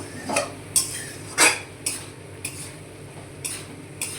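Spices for a light fish curry with potato and squash being mixed in a pan, a few distinct scraping clinks of a spoon against metal over a faint low sizzle, close by and spaced irregularly.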